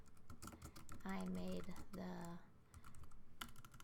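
Soft, quiet clicks of typing on a computer keyboard come in short bursts, with a voice talking over part of it.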